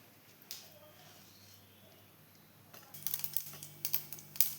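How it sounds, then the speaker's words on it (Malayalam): Mustard seeds pop in hot oil while spring onion stalk stir-fry is tempered, a quiet hiss giving way to sharp, irregular crackles that grow louder and denser in the second half. "ഇതാ കടുക് പൊട്ടുന്നുണ്ട്."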